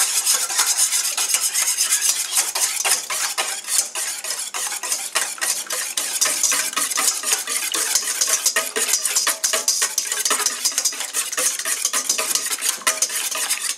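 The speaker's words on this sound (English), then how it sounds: "I don't think you want to overbeat your eggs" Eggs being beaten together in a bowl for a pumpkin pie, a fast, continuous scraping and clicking of utensil against the bowl, close and steady throughout.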